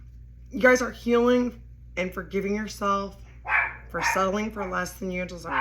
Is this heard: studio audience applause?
no